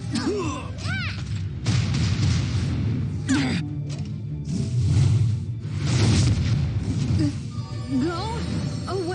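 Bomb blasts from the mobile game Epic Seven thump and boom repeatedly amid chirpy character voice lines and bright effect sounds, several heavy hits spread across the stretch.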